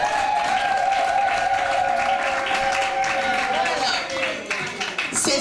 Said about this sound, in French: applaudissez pour mama Astrid.